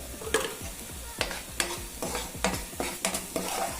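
Cumin, coriander, red chilli and turmeric powders frying in oil in a pan, with a steady sizzle broken by repeated sharp scraping strokes of a spoon stirring the masala, close and fairly quiet, no voices.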